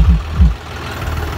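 A new John Deere 5210 tractor engine runs close by, a loud low rumble with two heavy pulses at the start, then a steady idle-like drone on a Punjab farm.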